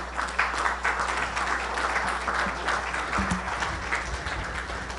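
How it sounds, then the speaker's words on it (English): Applause from a conference audience in Dallas, a dense steady patter of many hands clapping throughout, with a low hum underneath. "give me another round of applause for Vince Palamara."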